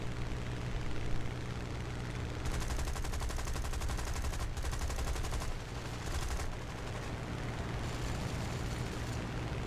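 Dense machine-gun fire from bomber tail and waist gunners in the War Thunder game, rapid repeated bursts that run almost continuously over a steady droning aircraft engine roar, loud and close throughout.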